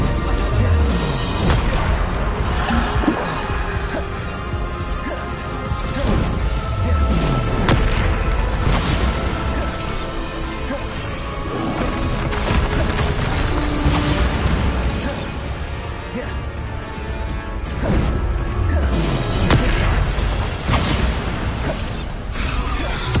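Repeated Bombarda explosion spells in Hogwarts Legacy burst as loud booms and crashing impacts every few seconds over a dense, continuous game soundscape of combat noise and music.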